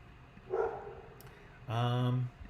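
A dog barks in the background of a class session, with one short bark followed by a longer, louder harmonic bark or howl at a moderate distance.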